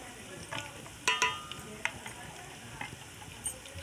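Turmeric and coriander are stirred into a frying pan with a low sizzle and several sharp clinks and scrapes of a spoon against the metal, close and moderately quiet.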